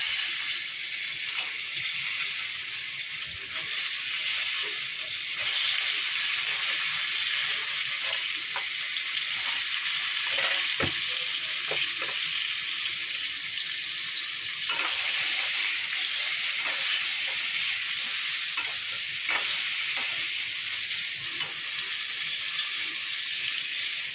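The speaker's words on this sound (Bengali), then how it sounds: "এবার পটলগুলো দিয়ে দিলাম তেলে দিয়েছি একটু কালো জিরে ফোড়ন" Pointed gourd frying in oil tempered with nigella seeds, a loud continuous sizzle with intermittent scraping stirs and clicks of a utensil against the pan, close up and without talk.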